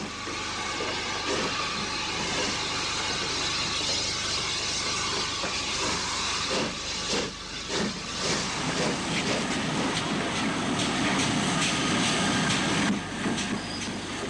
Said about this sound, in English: With a smile from the driver, the B1 departs for Woodford Halls